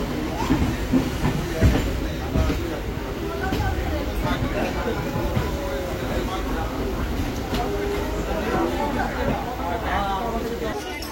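A Bibadibag–Krishnanagar local train running, a steady rumble and rattle of the carriage heard from inside under continuous passenger chatter.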